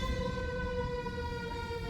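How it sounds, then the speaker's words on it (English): A steady wailing siren with a strong harmonic tone holds on at moderate distance, alone without talk. "That's the siren."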